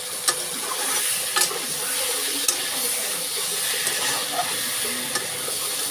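Potatoes and boiled eggs frying with spices sizzle loudly and steadily in a close pan, with occasional scrapes and clicks as a spoon stirs the mixture.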